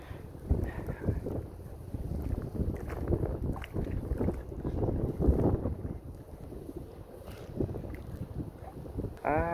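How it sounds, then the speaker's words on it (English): Strong wind buffets the microphone steadily while fishing from a boat on a lake in extreme winds, a loud continuous roar with gusts and faint water and boat sounds underneath. "Oh, it's so windy."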